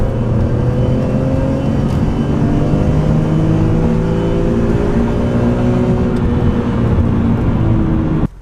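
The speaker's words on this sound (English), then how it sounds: "The S54 is such a peach of an engine. There's nothing that sounds quite like it." BMW E46 M3 with its S54 straight-six and an upgraded exhaust, revving steadily and loudly up close, a sustained smooth engine note for several seconds before cutting off abruptly.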